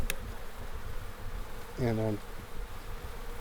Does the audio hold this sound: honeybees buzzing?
yes